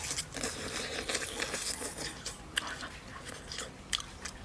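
Close, quiet chewing of taro chicken cooked over a wood-fired farm stove, with soft irregular bites and crunchy clicks for a few seconds.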